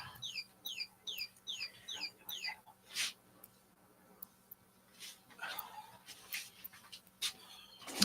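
A bird chirp toy squeaks in a series of quick repeated chirps at the start, followed by scattered softer squeaks and shuffling noises in a quiet room.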